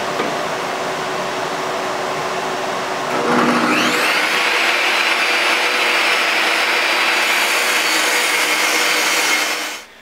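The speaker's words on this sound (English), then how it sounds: "the thing I want to do is I want to rip a piece of plywood" A saw revs up and then whines steadily through a rip cut along a piece of plywood, loud and close, with the pitch shifting slightly as the blade engages and a sudden stop at the end.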